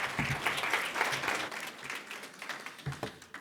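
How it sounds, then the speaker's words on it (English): Steady applause from an audience of ministers and business leaders at a formal event, a dense crackle of many hands clapping at moderate volume, continuing throughout without a break. "If we can please give him a round of applause."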